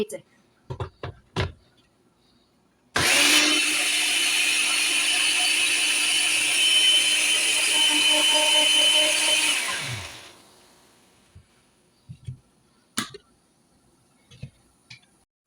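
A mixer grinder whirs loudly while grinding dhokla batter. The steady motor roar runs about seven seconds, then winds down, with clinks and handling knocks before and after.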